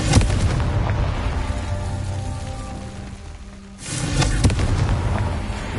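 Explosive spell blasts in the Hogwarts Legacy video game: a dense, rumbling burst with a sharp onset at the start, fading into a lull, then a second loud blast that keeps booming over game ambience.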